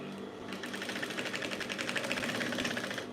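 A sewing machine top-stitches a sleeve top with a steady, fast mechanical whir and rapid rhythmic needle clatter that runs close and unbroken throughout.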